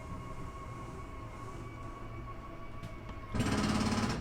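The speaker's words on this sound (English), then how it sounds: "When you hear that ratcheting sound, you know the slide is all the way out." A flush-floor slide-out on a 2019 Northern Spirit 3373 RL travel trailer hums steadily with its motor as it extends, then gives a loud, rapid ratcheting buzz close by at full extension.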